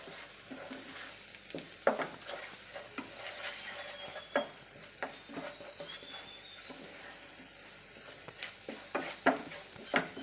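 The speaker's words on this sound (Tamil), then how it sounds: "இது எல்லாத்தையும் போட்டு பச்சை வாசனை போக நல்லா வதக்கிக்கலாம்" Spices and chilli powder for egg pepper masala sauté in a pan, with a soft continuous sizzle and frequent scraping, stirring clicks of a spoon against the pan throughout.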